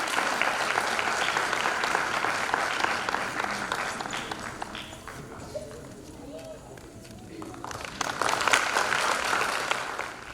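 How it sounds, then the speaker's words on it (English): Audience applause at a pre-school's annual day function, a sustained crowd of clapping that dips midway and swells again toward the end, with a voice briefly over the noise. "big round of applause for her"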